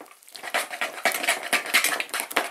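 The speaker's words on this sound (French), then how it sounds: "mélange bien la levure" Yeast being mixed into a liquid bread dough mixture in a bowl, a close, busy series of wet clinks and scraping strokes in quick irregular rhythm.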